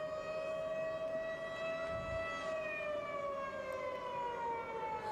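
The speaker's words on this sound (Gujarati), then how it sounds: "45 સાયરન છે તે વડોદરા શહેરમાં વગાડવામાં આવશે" A civil defense siren in Vadodara sounds during an air-raid mock drill, wailing steadily and loudly for the whole stretch, its tone holding then slowly sliding down, with faint background noise beneath.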